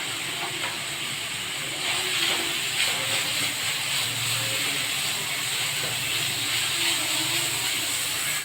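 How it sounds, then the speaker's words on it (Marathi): Carrots sautéing in a pan, a steady broadband sizzle and hiss that holds at an even level throughout with no talking over it. "गाजर थोडंसं असं आता परतून झालेलं आहे"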